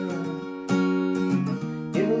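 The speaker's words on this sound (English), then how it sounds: "that first line we're just going to do single down strums for the first 3 chords" Acoustic guitar played with single down strums, a few broad chord strikes each ringing out and overlapping, close and clear with no voice.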